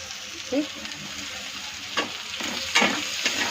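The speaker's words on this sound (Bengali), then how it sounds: "এখন আমার মধ্যে আর একটু পেঁয়াজ রেখে সেটা একটু এই যে ঢেলে দিচ্ছি" Onion tipped into hot oil in a pan, a continuous soft sizzle with a few louder stirring scrapes and clatters scattered through, while someone talks faintly in the background.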